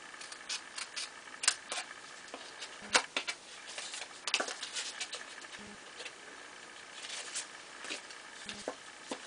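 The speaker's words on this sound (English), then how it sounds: "I'm just going to cut the tops off of these." Scissors snipping the tops off paper card pieces while making a center-step pop-up card: a series of faint, close, crisp little clicks and snips in an otherwise quiet room, irregularly spaced.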